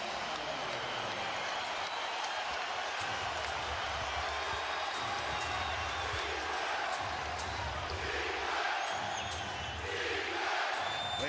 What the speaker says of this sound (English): A chant of defense by this capacity crowd at Staples